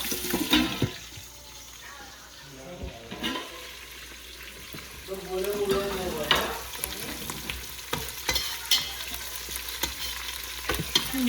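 Chillies and sesame seeds sizzle and crackle in hot oil in a home kitchen, a steady close frying hiss with sharp pops and stirring scrapes, and a voice speaks briefly.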